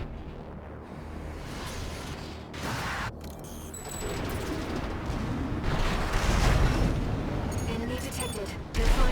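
Burst rifle fire in Armored Core 6, a mech combat game, with dense booming bursts and mechanical clatter running continuously across a loud, busy battle mix.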